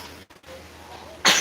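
A single close cough near the end, a sharp loud burst after a short quiet stretch, from a woman with acid reflux during a casual morning chat at home.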